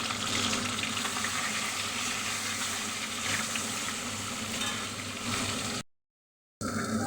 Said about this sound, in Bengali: লবণ, সামান্য লবণ হলুদ দিয়ে ডিমটাকে ভালো করে ভেজে নেব।